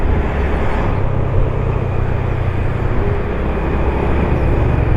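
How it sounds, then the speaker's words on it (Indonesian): Steady roar of passing cars and motorbikes on a city ring road in Manado, engines and tyres blending into a continuous loud rumble close by. "di belakang saya ini banyak mobil. Banyak motor."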